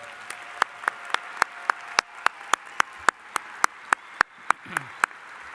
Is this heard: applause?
yes